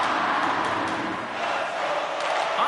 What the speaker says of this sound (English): the crowd is frustrated, and they're booing every time he touches the puck